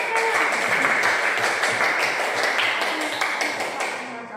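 Clapping fills a room during a Christian religious education lesson, a busy, close patter of many hands with a few sharp taps standing out, fading slightly toward the end.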